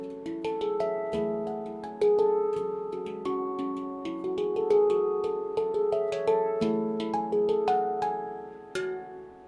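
A Meridian handpan in F Low Pygmy 19 is played solo, its struck notes ringing out one after another in a gentle melodic run, each tone decaying slowly and overlapping the next, close and clear with no talking.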